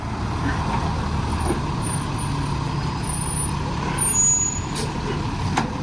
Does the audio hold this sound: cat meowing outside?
no